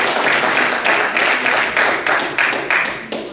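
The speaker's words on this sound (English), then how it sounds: "How do we give God a hand clap of praise and worship this morning?" A church congregation applauding in praise during a worship service, rhythmic waves of clapping that rise and fall in steady pulses, fairly close and filling the room.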